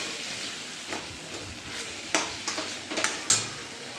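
A dry potato sabzi fries in oil in a kadai while a spoon stirs and scrapes it, making a low sizzle with a quick run of sharp scraping strokes in the second half.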